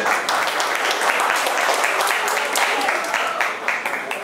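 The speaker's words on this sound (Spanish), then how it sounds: "un aplauso para él, puede ser." Guests at an awards night applaud an honoree in a loud, sustained burst of clapping that carries on steadily, with faint crowd murmur mixed underneath.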